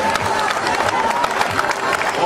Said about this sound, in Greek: Ο Γεωργούλης Αργύρης, ένα χειροκρότημα, το πρώτο νικητή.